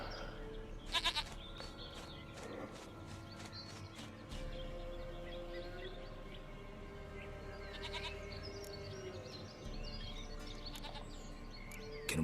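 Repeated goat bleats from The Witcher 3, clear and fairly close, come in several separate bursts over a steady low game ambience.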